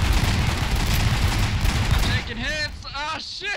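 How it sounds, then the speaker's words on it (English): Dense, continuous gunfire and booms fill a Garry's Mod firefight with customizable weapons, then ease off as a voice shouts over the remaining shots. "I stepped up and they started shooting at me."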